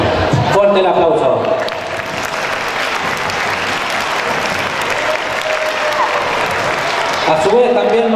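An audience at a daycare Children's Day celebration breaks into loud, sustained applause that fills the room for several seconds, with a voice heard briefly at the start and end.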